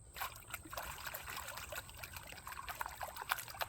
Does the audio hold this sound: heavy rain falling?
no